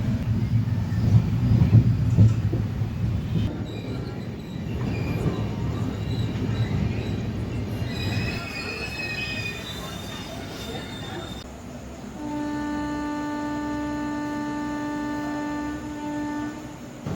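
The KSR Bengaluru Nanded Express, train 16593, rumbles along the rails with a steady, heavy roar; later, high, sustained metallic wheel squeals ring out, rising in pitch before settling into long steady tones.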